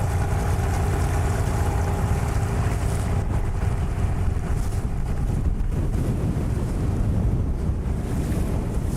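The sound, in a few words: strong wind on open water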